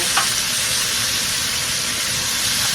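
Butter and onions sizzle steadily in a pan for cooking okra, a dense, constant loud frying hiss close up with no voices.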